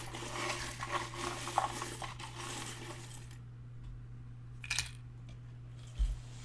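Tarot cards being shuffled close up for a weekly reading, a dense riffling rush for about three seconds, then a quieter pause broken by a couple of brief soft slaps and taps.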